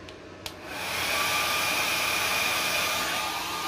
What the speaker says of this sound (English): And we could turn the hairdryer on.